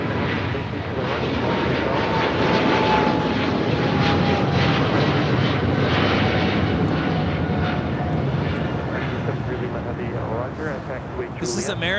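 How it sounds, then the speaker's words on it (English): An American Airlines Boeing 777-300ER bound for London Heathrow takes off at LAX with a steady, powerful jet roar, while people talk over it throughout. "This is American Airlines 134 taking off to London Heathrow on a 777-300ER"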